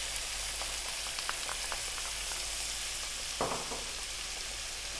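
Vinegar and ketchup sizzle in a hot pan for sweet and sour sauce, a steady fizzing hiss with a few small pops and a brief louder stir or splash.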